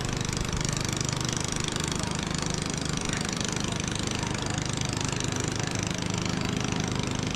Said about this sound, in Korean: 이렇게 모터 소리를 내면서 그들이 메콩강을 거슬러 갑니다